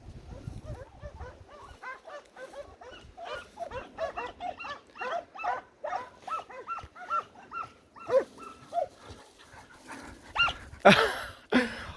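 Several hunting dogs on a hare hunt bark and yelp repeatedly in a rapid, excited chorus, some close and some farther off, ending with a burst of rustling.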